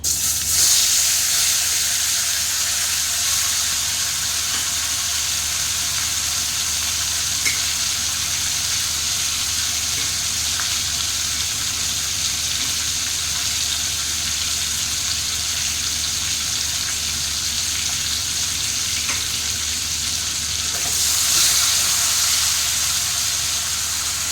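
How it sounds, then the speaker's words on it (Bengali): Tomatoes fry in a pan over medium flame, producing a constant loud hiss and sizzle with faint scattered crackles. It holds steady for the whole stretch and swells slightly near the end. "তাহলে টমেটোগুলো আমি হালকা করে ফ্রাই করে নেব"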